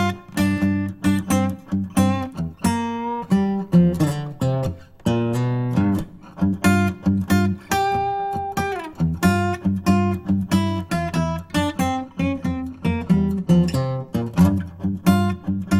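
Acoustic guitar played with a flatpick in a blues style, a scale lick with extra notes caught alongside the picked ones, steady close plucked notes and chords ringing alone for about fifteen seconds.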